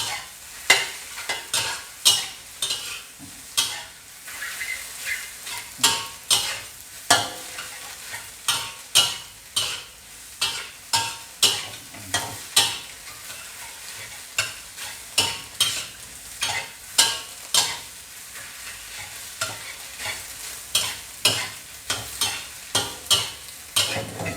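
Hot dog fried rice with egg is tossed in a pan, a spatula scraping and clanking in quick repeated strokes over a constant sizzle, busy and close with no talking.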